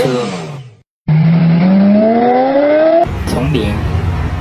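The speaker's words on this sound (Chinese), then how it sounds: "赛车" Race car sound effect: a loud engine revving up with rising pitch, then a short gap and a sustained accelerating whine, ending in a rougher burst with possible tire squeal.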